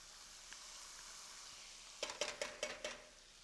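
Sauce dropped into a hot frying pan with pan drippings hisses steadily, then bursts into a run of sharp crackling pops and spits over a couple of seconds.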